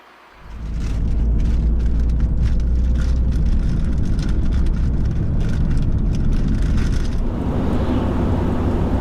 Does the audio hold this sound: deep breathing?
no